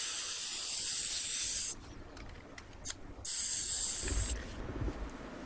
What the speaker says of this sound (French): Retirez la valve de la chambre à air et dégonflez le pneu.